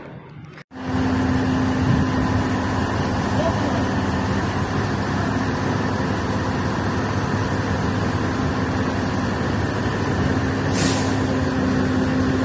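A BelAZ dump truck sets off and rams a parked Suzuki car. A loud, steady roar of the heavy engine and traffic runs throughout, with a voice faintly underneath.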